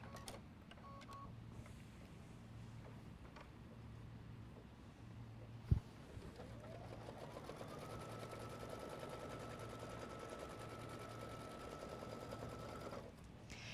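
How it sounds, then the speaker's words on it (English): An embroidery sewing machine runs a folding stitch over fabric laid on a placement stitch, with a steady, even mechanical whir and rapid needle rattle that starts after a brief click and continues alone at close range. "We're going to go ahead and lay our fabric down and run our folding stitch."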